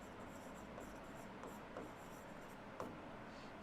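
Chalk scratching across a blackboard as a chapter name is written, a soft continuous rasp with a few sharper taps, close and fairly quiet against faint room noise.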